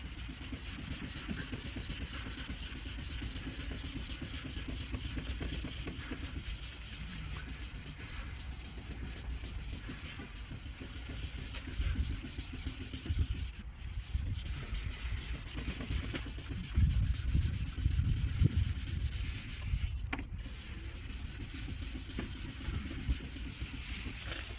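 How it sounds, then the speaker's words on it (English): Plastic headlight lens on a 2008 Chevy Impala being sanded down to remove its cloudy damaged layer, giving a steady, close, continuous scratchy rubbing that swells slightly in the second half, with no voices. "I'm actually sanding down some of the plastic"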